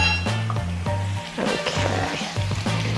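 A basil, honey and balsamic glaze comes to a boil in a pan, giving a soft bubbling sizzle under a steady electrical hum, with a few brief clinks of a spatula against the pan.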